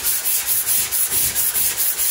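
Steady back-and-forth sanding of body filler on a car trunk lid, a rhythmic rasping scrub repeating about every quarter second, loud and close.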